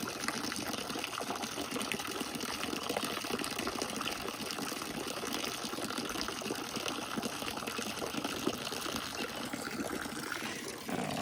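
Water runs from a hose to fill drinking water for farm animals, a steady broadband gushing rush that continues unbroken for over ten seconds before easing slightly near the end.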